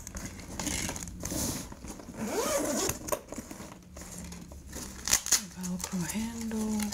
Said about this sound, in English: the zipper on the side